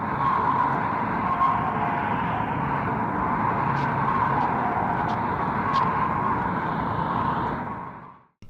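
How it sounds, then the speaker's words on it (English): Rushing traffic from the film Eraserhead forms a loud, continuous roar like a war zone, with a few faint high ticks over it, holding steady for several seconds before fading out at the end. "the rushing traffic in the background sounds like a war zone"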